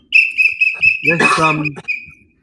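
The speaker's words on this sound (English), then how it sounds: "So I've got my whistle out for you." A toy or sports whistle blown in a run of short, shrill repeated toots, fairly close and loud, then overlapped by a brief burst of other noisy sound and a final toot.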